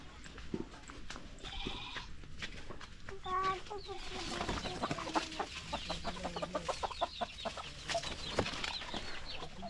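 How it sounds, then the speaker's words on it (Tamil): Many chickens cluck and call from inside a cashew tree in a natural farmyard setting, with repeated squawks and clucks near and far and some faint voices in the background. "இந்த முந்திரி மரத்துக்குள்ளே எவ்வளோ கோழிங்க இருக்குன்னு பாருங்களேன்."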